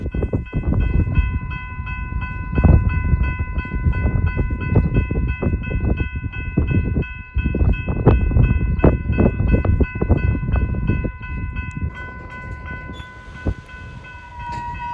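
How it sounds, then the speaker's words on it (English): Freight locomotives reverse a string of new hoppers to couple them onto a train on the main line, with a steady engine rumble, repeated clanks and bumps, and a long horn tone sounding throughout. "allowing the locomotives to reverse these new hoppers and couple them onto the rest of the train that they left on the main line earlier"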